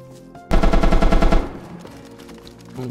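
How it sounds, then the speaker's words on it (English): A rapid burst of automatic gunfire in the survival game DayZ, roughly a second of fast, evenly spaced shots, loud and close, cutting off abruptly into quieter ambient tones. "Oh shit, I'm hearing shots literally up here. Right next to the military."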